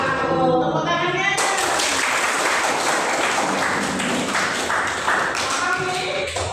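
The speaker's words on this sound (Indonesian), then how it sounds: "Tepuk tangannya." A classroom of students claps together, loud and close, in quick irregular bursts that carry on for several seconds after a voice speaks briefly at the start.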